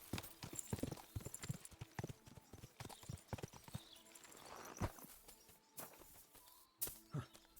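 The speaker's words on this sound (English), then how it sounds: "Horse. What's it doing here in the woods?" A horse in a wooded area of the video game Kingdom Come: Deliverance 2 walks with irregular, close hoof clip-clops, with a few soft snorts between steps.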